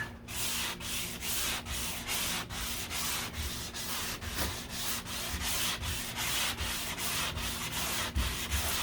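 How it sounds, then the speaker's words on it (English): Primer on the deck lid of a 1969 C3 Corvette is sanded by hand in quick, even back-and-forth strokes, a close, rhythmic rasping that repeats about sixteen times with no talking. "we're just going to sand down as much as we can until that shows up"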